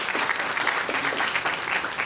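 An audience at a statehood commission draft constitution release claps steadily, a dense, continuous round of applause from a crowd throughout.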